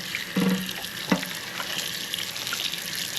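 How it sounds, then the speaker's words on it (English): Running water rinsing salt off codfish, a steady faucet stream with a few soft splashes and handling knocks near the start. "I'm going to wash off the salt from the codfish."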